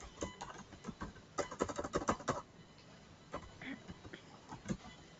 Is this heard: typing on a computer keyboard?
yes